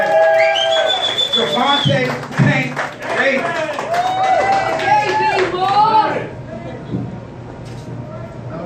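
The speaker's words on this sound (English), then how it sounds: "Round of applause." Audience applause and cheering at a boxing post-fight press conference for Gervonta Tank Davis after his knockout of Nunez, clapping and whoops mixed under an announcer's voice for several seconds, then fading.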